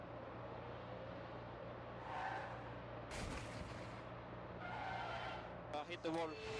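A race car in the F1 Manager 24 video game crashes into a wall, heard as bursts of engine and impact noise over a steady low drone, with a sharper clattering cluster near the end and talk throughout.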